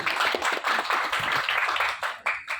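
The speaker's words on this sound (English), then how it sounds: "Big round of applause for Neeraj" Audience applause for Neeraj fills the space with dense, steady clapping at a loud, close level, easing into a few scattered claps near the end.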